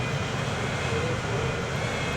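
An airplane flies in the Transport Fever 2 video game, giving a steady, full engine drone that holds evenly from start to end.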